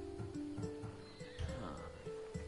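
A horse in Assassin's Creed Odyssey neighs in a drawn-out whinny amid soft hoof clops and low background music.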